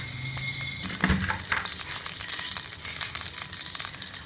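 Ghee heating in a kadhai for sweet vermicelli, a busy close crackle and sizzle with a few stirring scrapes and a soft knock near the start.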